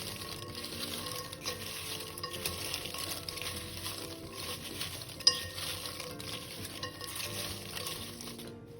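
Fried spring roll wrappers tossed with spicy cheese powder, stirred steadily with a continuous crisp rustle and scrape, plus faint clinks of utensils and one sharp tap midway, close and without talk.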